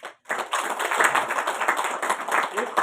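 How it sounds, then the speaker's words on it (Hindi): A gathering held by a national workers' education board claps for its team: after a brief pause, a burst of dense group clapping starts and carries on steadily to the end, fairly close and even. "इनकी ताली बजा के"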